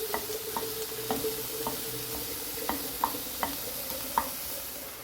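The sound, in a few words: onions sautéing in a pan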